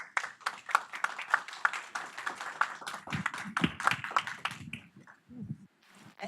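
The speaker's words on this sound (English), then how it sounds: "Let's give her a round of applause," An audience claps for a woman about to give remarks at a community training morning. The crowd's hand claps rise in a dense burst for about five seconds, then thin out and trail off.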